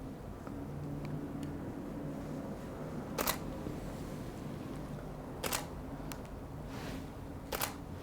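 A single-lens reflex camera shutter clicks three times, sharp and brief and spaced a couple of seconds apart, during an indoor photo shoot at slow shutter speeds, over a low steady room hum.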